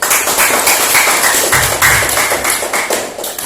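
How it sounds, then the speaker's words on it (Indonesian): A classroom group claps together in a loud, dense burst of applause with uneven rhythm, slightly thinning toward the end. "Maka kita berikan tepuk tangan yang meriah untuk Mas Zarfan."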